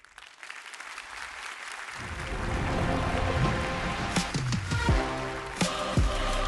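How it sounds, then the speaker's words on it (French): A crowd breaks into applause that swells after a quiet start, a dense steady patter of many hands, with a few louder knocks near the end. "merci d'accueillir en les applaudissant"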